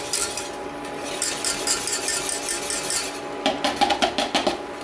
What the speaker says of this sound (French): Petit à petit, sur le fouet, et vous remuez sans arrêt.